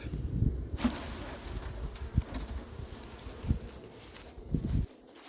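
A small honeybee swarm is tapped down into a hive, giving a steady low buzzing hum with a few dull knocks from the taps, close and moderately loud outdoors.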